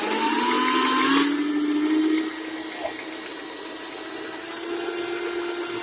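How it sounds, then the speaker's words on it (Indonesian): An electric hand mixer whirs steadily while beating egg whites with sugar and baking powder, its motor pitch dropping and settling as the mixture thickens, continuous and close for the whole stretch. "yang pertama kita mixer putih telur, gula pasir, dengan baking powder"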